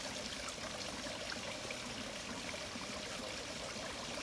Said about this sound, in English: this is the water cascade.